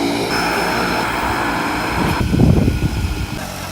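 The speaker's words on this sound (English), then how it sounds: "Oh, this is our flight, that's over." A propeller airplane taking off and passing overhead at Craig Cove on Ambrym, Vanuatu, a loud steady engine roar that swells into a rumbling surge as it goes by, with voices faintly underneath.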